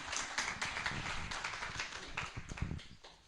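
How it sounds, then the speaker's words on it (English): Applause at a charity golf tournament event after a state representative, Lauren Ashley Simmons, is introduced; quiet, steady clapping from an audience with a few louder claps, fairly distant. "can y'all give her another round of applause"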